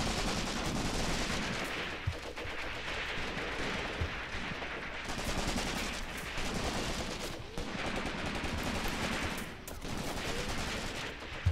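Sustained gunfire fills the Cross of Iron battle on the Mius Front, with German defenders under attack: dense rifle and machine-gun bursts crackle continuously at close range, punctuated by heavier distant booms, with no pauses.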